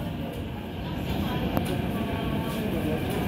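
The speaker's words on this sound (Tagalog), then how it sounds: "So, yan na po yung tren." A steady rumbling train roar fills the clip, a Hong Kong MTR subway train arriving at Choi Hung station with continuous low mechanical noise, fairly loud and close.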